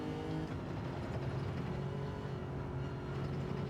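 Lexus RC F GT3 race car in Gran Turismo 7, its engine droning steadily and loudly throughout with a constant mechanical roar, no speech.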